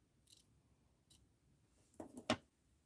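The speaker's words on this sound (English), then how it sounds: "Let's snip off that 35." Scissors snip paper while cutting a stamp from a mixed-media art journal page: a couple of faint isolated snips, then a closer cluster of two or three sharp cuts, quiet and without talk.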